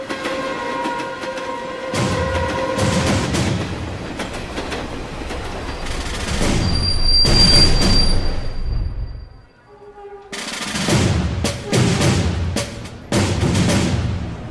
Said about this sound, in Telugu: మన తర్వాత వచ్చిన ట్రైన్ కూడా వెళ్ళిపోతుంది.